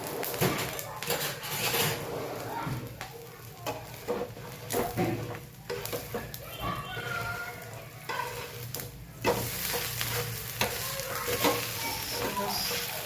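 Uttapam fries in oil on a griddle and is flipped, with a steady close sizzle and spatter, scattered scraping and flipping knocks, and a voice talking over it.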